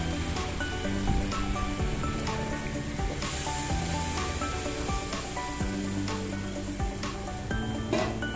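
Water goes into a pan of fried spice paste for a vegetable curry, producing a dense, churning bubbling and hissing that carries on steadily throughout, with no talk.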